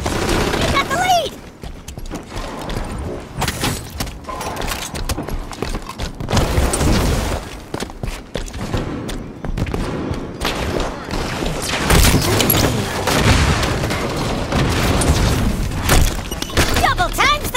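Chaotic Halo 5: Guardians multiplayer firefight with grenade blasts and rapid gunfire, loud and dense, layered with game effects and excited shouted voices throughout.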